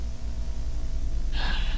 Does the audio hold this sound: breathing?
yes